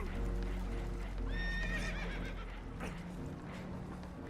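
Spooked horses on a boat whinny loudly in Red Dead Redemption 2, with a shrill rising neigh over rumbling water and creaking, plus a few hoof knocks.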